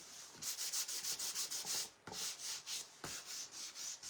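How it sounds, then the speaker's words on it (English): Hand sanding of a stenciled project with 600 grit sandpaper, a series of quick rhythmic rubbing strokes in three bursts, close and fairly quiet with no talk. "I'm going to give a good little sand over this"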